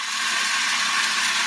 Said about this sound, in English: That's the sound of extremely tender and delicious beef from certified Piedmontese.